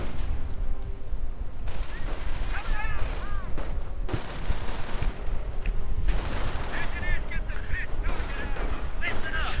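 .50 caliber machine gun fire from a Sherman tank in a World War II strategy video game, bursts of rapid gunfire within a dense battle soundscape of explosions and chatter, with a commentator talking over it.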